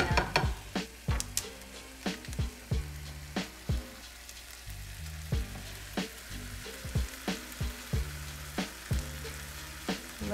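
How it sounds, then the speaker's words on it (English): Ground turkey with diced onion, salt and pepper browns in a pan for tacos, with a steady close sizzle under a series of regular, rhythmic thumps and no talking. "we are pretty much done browning our ground turkey"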